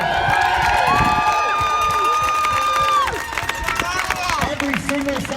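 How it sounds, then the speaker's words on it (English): Rally crowd at an outdoor freedom rally in Edmonton cheers loudly with whistles and shouts over steady clapping, a dense roar that holds for about three seconds before easing into lighter, scattered cheering. "Let's give them a round of applause."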